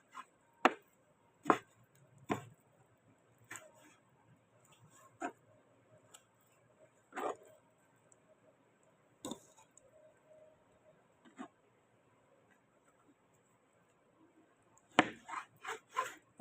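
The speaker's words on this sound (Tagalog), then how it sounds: "Madali lang siyang hiwain kasi pinakuluan ko siya eh." A knife cuts through soft boiled pig face meat on a board, making a sparse series of sharp close chops and taps with pauses between and a quicker cluster at the end.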